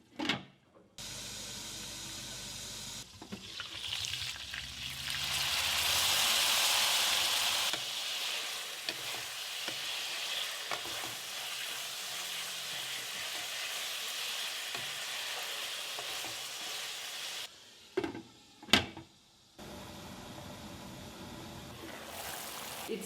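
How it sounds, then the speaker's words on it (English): Pork with ghost pepper sizzles loudly in a pan while being stirred, a steady frying hiss that swells midway, with a few clanks of the utensil near the end. "Stir, cover and cook it for 10 minutes."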